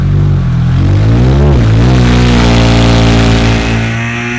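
A second-generation Acura Integra race car engine revs hard on a dyno, loud and close, its pitch dipping briefly and then climbing steadily in a sustained wail with no talking.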